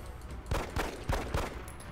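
Gunshots in the turn-based strategy game XCOM Enemy Within: four sharp, fairly quiet reports in quick succession over a steady low background hum.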